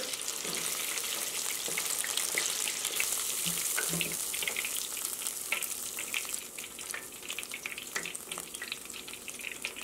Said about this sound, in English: I'm just gonna take them off from the deep fryer